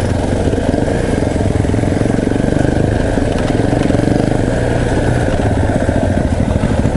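Motocross dirt bike engine idling in a forest, a loud, steady close rumble that holds evenly with slight pulsing and no revving.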